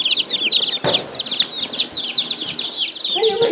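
Many baby chicks, just arrived by mail and set on the floor, peep and cheep in a dense, continuous chorus of high chirps, close and fairly loud, with a few soft rustles and a brief low bump.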